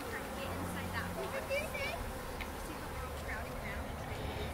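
A swarm of honey bees pours into an outdoor catch box, their buzzing a steady, wavering drone with a few louder passes of individual bees near the microphone, while voices talk over it.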